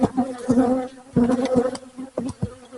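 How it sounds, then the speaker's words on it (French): Honeybees buzzing close by during a hive inspection, several bees droning in uneven, overlapping bursts with a steady tonal hum as they fly near the microphone. "les abeilles vont se ramasser près de ma pince"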